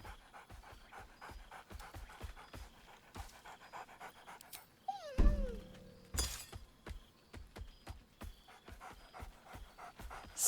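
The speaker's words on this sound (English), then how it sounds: "Scratch barks merrily in something like agreement" Scratch, the dog companion in Baldur's Gate 3, pants in quick steady huffs, then a sharp bright crash and a short rising yelp break in midway, followed by more rhythmic panting.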